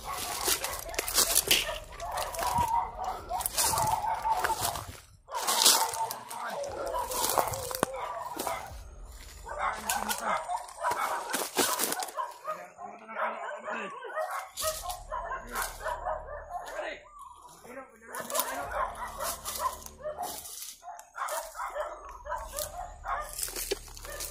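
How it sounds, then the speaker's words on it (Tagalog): Dogs bark repeatedly in loud, overlapping bursts, mixed with whimpers and yips, sometimes close and sometimes farther off, throughout. "Kasamahan pala nila yung mga aso siguro."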